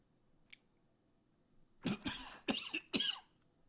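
A short burst of several harsh coughs, close and fairly loud, after a brief faint tick, with no talking.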